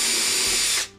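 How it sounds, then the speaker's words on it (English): A power drill bites into an arborite laminate surface in one loud, steady whirring burst of just under a second, then stops abruptly. "I don't want to drill too deep into this, but I want to break the arborite so that I can start my screw"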